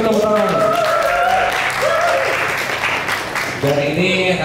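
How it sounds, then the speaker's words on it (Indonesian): Crowd claps at a game launch event for a horror title, the applause running under a presenter's amplified voice, which talks over it almost throughout. "boleh kita tepuk tangan."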